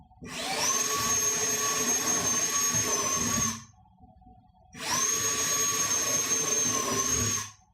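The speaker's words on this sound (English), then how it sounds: "I'm just drilling starter holes right now for the jigsaw." A power drill boring starter holes into a cabinet for a jigsaw cut runs in two steady, loud bursts of about three seconds each, with a whining high motor tone and a short quiet gap between them.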